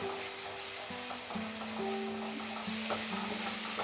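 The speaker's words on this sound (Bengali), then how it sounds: "আদা রসুনটাকেও পেঁয়াজের সঙ্গে আরো মিনিট 2 ফ্রাই করে নেব মিডিয়াম আঁচে" Ginger and garlic paste frying with chopped onions in oil over medium heat, a steady soft sizzle with occasional stirring scrapes and clinks, no talk.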